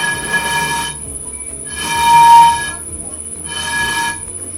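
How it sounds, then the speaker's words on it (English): Air blown across the mouth of a Coca-Cola bottle makes three separate hollow, resonant hoots, each lasting about a second with short quiet gaps between them. "Now let's try making a sound from it by blowing air into the"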